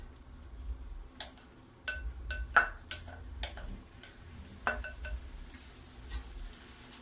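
A spoon works boiled macaroni into a pan, making quiet, scattered scrapes and clinks at an uneven pace over a faint background.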